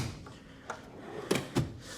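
Toolbox drawer holding a full wrench set sliding open, a few quiet clunks and metallic knocks spaced over two seconds, no talking.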